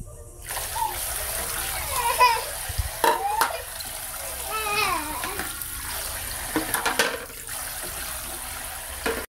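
Dishes are washed in a home kitchen under a steady stream of running tap water, with clinks and splashes as plates are handled and a voice talking quietly over it.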